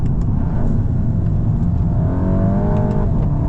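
A 2025 Volkswagen Golf GTI engine, its note partly artificial, revs with a loud, coarse, throaty rumble that climbs steadily in pitch from inside the car, with no talking.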